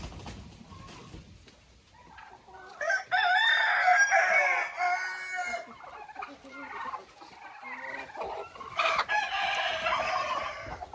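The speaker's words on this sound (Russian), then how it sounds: "Два петушка, которые будут оставаться на следующий год." A rooster crows loudly nearby, twice, with other fowl clucking and gobbling around it, including a naked-neck chicken.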